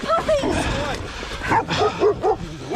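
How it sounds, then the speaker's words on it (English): Several dogs bark and yip in sharp repeated bursts at a rider, some whimpering yelps mixed in, loud and close, with people shouting over them. "Get your dogs off me!"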